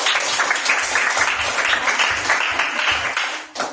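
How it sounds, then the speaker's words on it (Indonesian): A classroom group breaks into lively, dense applause close by, clapping steadily for several seconds before it quickly dies away. "Tepuk tangan Bapak"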